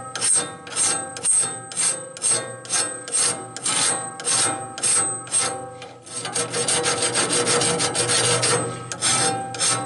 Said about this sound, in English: this blade's not really dull, so it's not taking me much to sharpen them up